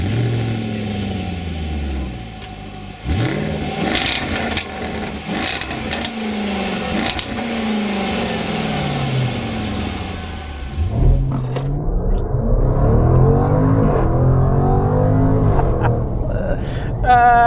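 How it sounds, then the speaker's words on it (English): A supercharged 5-litre V8 in a 2021 Jaguar F-Pace SVR SUV, loud and close, with a deep engine rumble rising through repeated revving and acceleration sweeps, ending in a sustained strong pull. "So we've got an old 5-liter supercharged V8."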